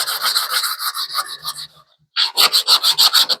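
Rhythmic hand sanding strokes on a 1966 Ford Mustang car body, a steady back-and-forth rasp, pausing briefly before resuming at a quicker pace; close and fairly loud, no talking.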